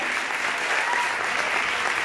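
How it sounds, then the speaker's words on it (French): Audience applauding warmly at the Miss Lens 2023 pageant in Lens, a steady even wash of clapping from a crowd at moderate distance, alone without talk. "on les applaudit chaleureusement"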